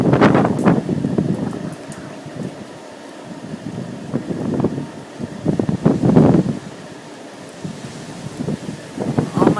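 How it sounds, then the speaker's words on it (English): Strong wind with heavy rain buffets the microphone in loud, uneven gusts that swell and fade over a steady rushing hiss, with some faint voices underneath. "look at this wind"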